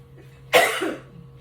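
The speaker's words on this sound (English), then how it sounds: "Seasoning, for some reason, makes me cough." A single sharp cough, close and loud, in an otherwise quiet room with a faint hum.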